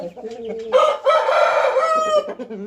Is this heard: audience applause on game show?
no